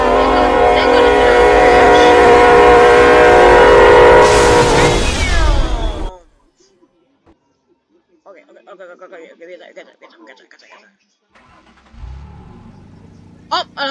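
Two trains on a head-on collision course blare a loud, sustained horn for about six seconds before it cuts off abruptly into near silence, followed by a few faint scattered noises and short bursts.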